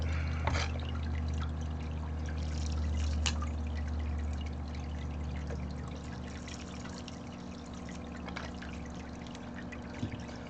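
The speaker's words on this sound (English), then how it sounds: "Let's get us some water. Get it nice and wet." Water poured and trickling over gold-prospecting paydirt from Roaring Camp being wetted for panning, a soft steady splash and trickle close by with faint background hum, no talk.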